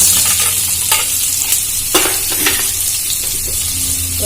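Onions frying in hot oil with five-spice seeds and two bay leaves for a Bengali fish curry, a loud steady sizzle with a few sharper stirring scrapes, close and alone without talk.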